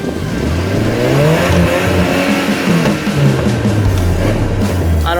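Engine of a 1980s first-generation Toyota 4Runner with a transfer case doubler, crawling in low range on a ranch trail, a loud steady mid-pitched drone with slight rises in revs, close and continuous.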